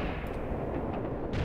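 Gunfire from the WWII tactics video game Graviteam Tactics: Mius Front, a dense, continuous wash of distant shots and rumbling fire with a few sharper cracks breaking through, steady throughout.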